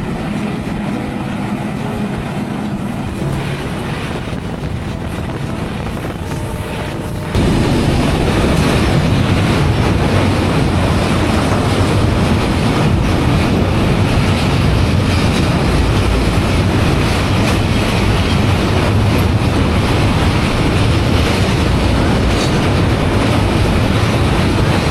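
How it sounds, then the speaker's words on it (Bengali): The Rupsha Express speeds through green Bangladeshi countryside, a loud, steady roar of wheels and carriage rumble building suddenly after a quieter opening and continuing without a break. "দুর্দান্ত গতি নিয়ে চিরচেনা বাংলার সবুজ প্রকৃতির মাঝে এগিয়ে যাচ্ছে আমাদের রূপসা এক্সপ্রেস"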